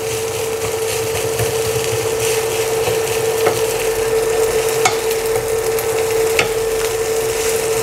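Garlic is stir-fried in a wok for shrimp fried rice, a loud, continuous close sizzle with faint scraping and a few light ticks of the spatula against the pan, and no talking.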